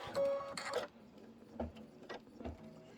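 An embroidery machine beginning to stitch a Kimberbell design in green thread, with a brief whirring burst followed by quieter, irregular mechanical clicks and thumps, faint and nearby with no talking.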